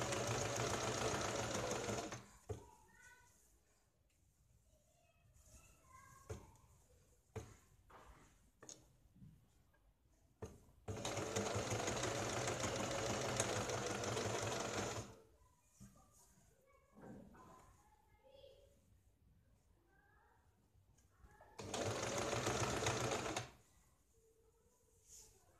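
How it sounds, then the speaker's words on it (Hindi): A sewing machine stitches piping onto a blouse in three steady runs of several seconds each, separated by quieter pauses with faint handling clicks. "इसके ऊपर हमें सिलाई लगानी है।"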